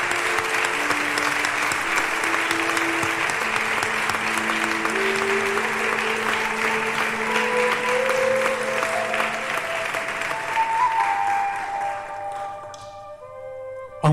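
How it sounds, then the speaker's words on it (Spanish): Sustained, loud audience applause fills a hall at a 75th-anniversary proclamation ceremony of the Hermandad Cristo Rey brotherhood in Jerez de la Frontera, with sustained musical tones running beneath the clapping, then thinning out near the end. "lo quiero hacer con un fuerte aplauso"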